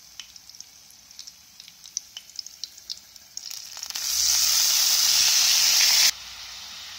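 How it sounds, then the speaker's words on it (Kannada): Chopped tomatoes drop into a hot garlic and fenugreek tempering for tomato gojju, setting off a loud, sustained close sizzle that follows light crackling pops and then suddenly eases to a quieter hiss. "ಒಗ್ಗರಣೆ ಒಳಗೆ ಬೆಳ್ಳುಳ್ಳಿ ಮೆಂತ್ಯಕಾಳು ಸ್ವಲ್ಪ ಕೆಂಪಾಗ್ಯಾವಲ್ಲ, ಈ ಸದ್ಯ ಟೊಮೆಟೊ ಹಾಕೋತೀನಿ"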